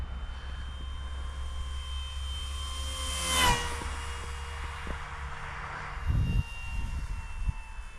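A grey Zero model airplane flying in falling snow, its small engine a steady buzz that swells briefly as the plane passes close, then settles back to a continuous drone, with low rumbling handling noise near the end.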